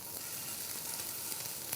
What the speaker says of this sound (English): make sure that you get that nice sizzle coming off there